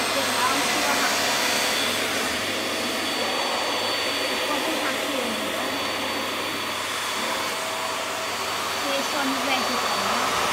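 A VAX Air Stretch Pet Max upright vacuum cleaner runs on carpet with a steady, loud broadband whine and motor hum throughout, while a voice talks briefly over it.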